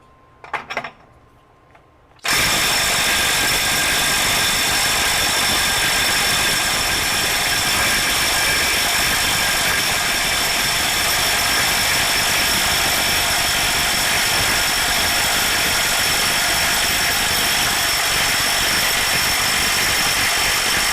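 A FLEX FX1451 24V mid-torque impact wrench runs in reverse at speed 3. After a brief quiet start it kicks in with a loud, continuous hammering whir held steadily to the end.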